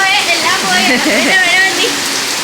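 Steady rain pours down, a loud, dense hiss that fills the whole moment, while a voice murmurs faintly underneath.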